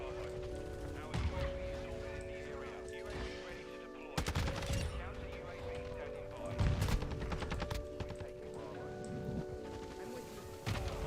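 Repeated heavy blasts and rattling gunfire from a Call of Duty: Modern Warfare 2 match form a few sharp impacts over a busy game soundscape with tonal effects, all at low level.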